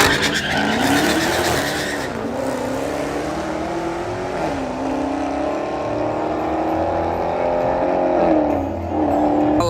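Street race car on a dark hood track, its tires squealing and hopping as it fights for traction, with a loud, continuous engine roar whose pitch rises and dips throughout.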